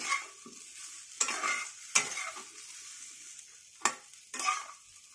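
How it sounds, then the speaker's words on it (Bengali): Coriander powder, cumin powder and sugar frying in a little oil are stirred in a pan, giving soft sizzling with sharp intermittent scrapes and clinks of the spoon against the metal pan. "এক মিনিট মতো নাড়াচাড়া করে নিলাম"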